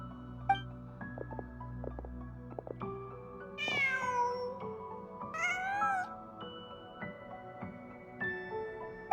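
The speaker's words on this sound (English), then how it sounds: "Just a cat." A cat in Genshin Impact meows repeatedly, several rising, wavering cries over a quiet game ambience with soft chimes and tones.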